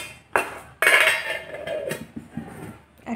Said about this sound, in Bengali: এবার আমি টিফিন কৌটোর ঢাকনাটা আটকে দেবো।